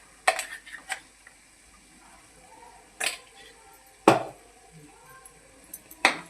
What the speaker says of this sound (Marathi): चांगले परतून घेऊया आपण